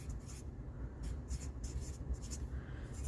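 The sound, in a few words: writing with a Sharpie marker on a Post-it pad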